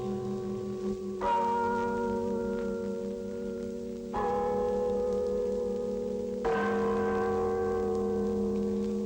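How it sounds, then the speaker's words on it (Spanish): Church bells toll a slow death knell in a Basque village, three deep resonant strikes spaced a few seconds apart, each ringing on and overlapping the last, heard from a distance. "¿Cómo suenan en estos pueblos vascos, en los días de otoño, las campanas de la agonía?"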